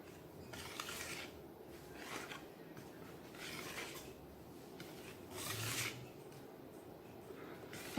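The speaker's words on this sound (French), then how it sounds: "on va juste battre au fouet, tranquillement" A whisk gently beating flour and cocoa into cake batter in a bowl, soft rhythmic scraping and rubbing strokes repeating at an unhurried pace, quiet and close with no talking.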